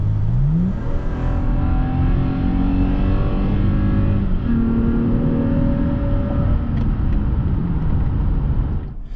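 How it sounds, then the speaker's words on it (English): A 2021 Toyota Tacoma Trail Edition V6 pickup engine revs up steadily, its pitch climbing and holding in a smooth, loud drone, then easing off near the end. "the 6-cylinder engine is a pretty decent engine, it's smooth, it revs pretty nicely"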